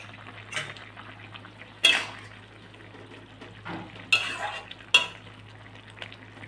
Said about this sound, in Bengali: পনিরগুলো দিয়ে একটু নাড়িয়ে চাড়িয়ে দেবো